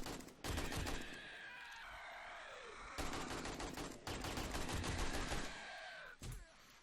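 Sustained gunfire in the survival game 7 Days to Die, with several long bursts of rapid automatic shots and brief pauses between them, loud and close throughout.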